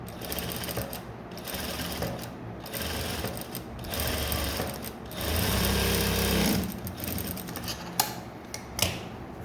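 A sewing machine stitching the back neck of a blouse, running in loud close bursts of rapid mechanical clatter separated by brief pauses, with a few small clicks near the end.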